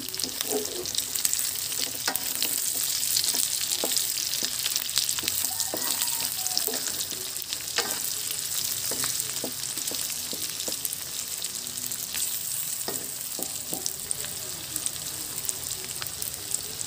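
Binagoongan with tomato sizzles and fries in a pan while a utensil stirs it, the steady sizzle punctuated by repeated scraping and clinking strokes at close range.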